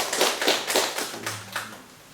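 Congregation applause during a Sunday church service, a short burst of clapping that fades over about two seconds, moderately loud and close.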